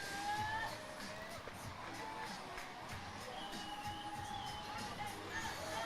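A crowd at the canoe freestyle European Championships in Graz cheers and whoops from a distance, a faint but continuous roar of voices with scattered shouts on top.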